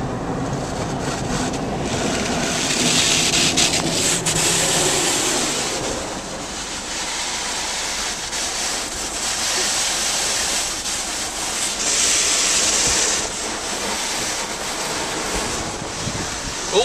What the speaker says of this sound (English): Here comes some soap and some more water.